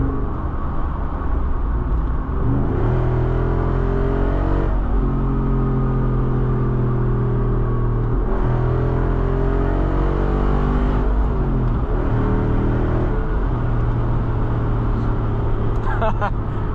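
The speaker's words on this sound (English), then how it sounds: "That V8 sounds so crazy." A 2024 Jeep Wrangler Rubicon 392 Final Edition V8 heard from inside the cabin, revving up through several gears with rising engine tones that drop at each shift, a deep rumbling burble loud and continuous throughout.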